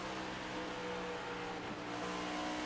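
Race cars in a sim racing video game lap Charlotte Motor Speedway in a Send It Cup Series race, mostly off throttle. Their engines give a steady, continuous drone with no talking.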